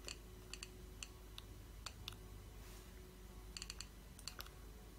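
The click wheel of a second-generation iPod Classic gives faint, crisp ticks, single and in quick pairs or bursts, spread unevenly over a quiet hum with no talking.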